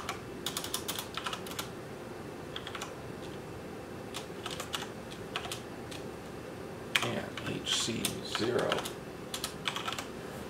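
Keys clatter on a computer keyboard as a command is typed into a Z80 RC2014 retro computer, a close run of quick taps in short clusters, with some speech in the background.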